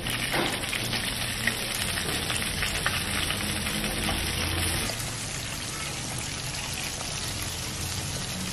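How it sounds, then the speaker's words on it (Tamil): Chicken pieces sizzle and crackle steadily in hot oil, a dense, continuous close-up frying hiss with occasional stirring, no voices. "இது வந்து நம்ம எண்ணெயில போட்டு ஃப்ரை பண்றோம்"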